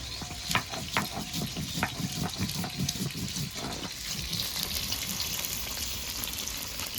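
Snakehead fish frying in a pan sizzles quietly and steadily, with a run of close, rhythmic knocks and scrapes over the first half before a smoother, hissing stretch.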